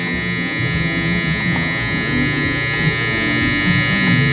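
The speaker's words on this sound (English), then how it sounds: "That line right here, we can soften it with our trimmer again" An electric hair trimmer runs continuously at close range during a taper fade haircut, a steady loud buzz with faint variation as it works through the hair.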